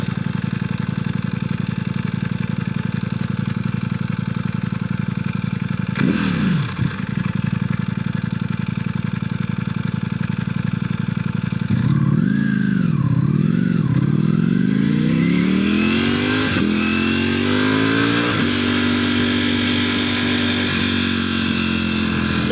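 A motorcycle idles steadily, then revs repeatedly in wavering bursts and climbs in pitch as it accelerates during wheelie attempts on a sloped road, loud and close, with no talk.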